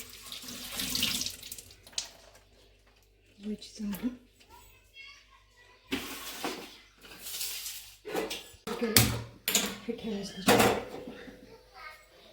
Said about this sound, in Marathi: सात आठ पानं आणलेत मी तुळशीची त्याला धुवून घेते